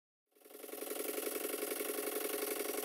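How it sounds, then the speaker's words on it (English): A vintage model open steam launch engine, run on compressed air, starts abruptly after a moment of silence and settles into a rapid, even chuffing rhythm that stays steady and close. "I just connected some compressed air to it and flicked the flywheel over top dead centre and off it went."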